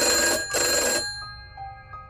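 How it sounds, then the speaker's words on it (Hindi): Two loud bursts of an electronic telephone bell ring close by, each about half a second, followed by quieter fading tones. "टेलीफोन की तेज आवाज से मेरा ध्यान हट गया।"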